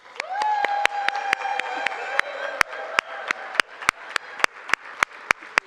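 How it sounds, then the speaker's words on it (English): Congregation in a church sanctuary applauds, with a few sharp, distinct claps ringing out at a steady rhythm over a held sustained tone, as a sparse gathering claps together. "Let's applaud her."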